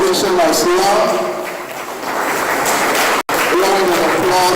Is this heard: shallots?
no